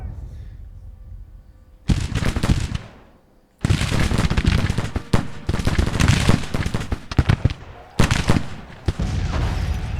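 Artillery and rifle fire crash through a battle in the strategy video game Grand Tactician. Loud volleys of booms and crackling gunfire come in several dense bursts over a low rumble, with someone speaking between them.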